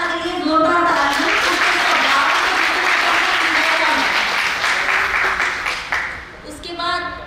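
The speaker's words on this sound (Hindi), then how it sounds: "जोरदार तालियां" An audience at a retirement gathering applauds steadily and loudly for a retiring colleague, with voices faintly mixed in as the clapping thins toward the end.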